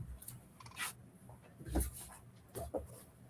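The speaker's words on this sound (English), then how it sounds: "He's over there starting to bark." A dog gives a few short, faint barks and pants indoors, heard as scattered brief bursts over a low background.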